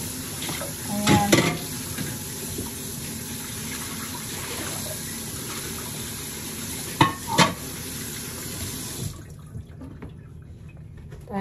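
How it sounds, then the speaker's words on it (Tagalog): Running water splashes steadily while dishes clink and clatter now and then, nearby, until the water shuts off near the end. "Tayo maglilinis muna ng pinggan."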